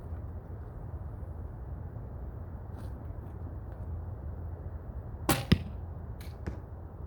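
A single arrow is loosed from a traditional bow drawn with three fingers using string walking and strikes a target: a sharp snap and thud, then a quick second knock, over steady outdoor background hiss.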